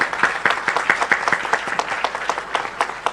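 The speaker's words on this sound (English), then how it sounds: "Can we have a huge round of applause for Deputy Prime Minister of Singapore?" Round of applause from delegates at a ministerial maritime dialogue session, with close, crisp individual claps forming a steady brisk rhythm throughout a short burst of clapping.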